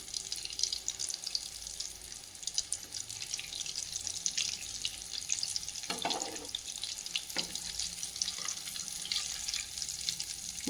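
Suiyam, sweet filled dumplings with a cooked filling, deep-frying in hot oil: a steady, dense, bubbling hiss runs throughout with a couple of brief louder crackles, no talking.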